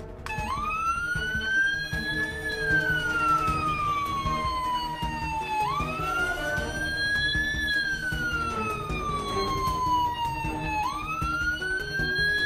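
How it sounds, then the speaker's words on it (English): An ambulance siren wails in slow, regular rising and falling sweeps, loud and steady throughout, with faint traffic rumble underneath. "Nurse Flood arrived in her lovely ambulance."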